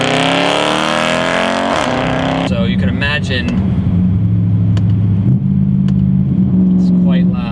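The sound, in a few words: straight piped Mercedes C63 AMG with RENNtech headers revving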